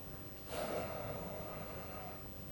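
A long, audible exhale during a qigong exercise for lower back pain, a soft breathy rush starting with a sharper onset, then steady and close.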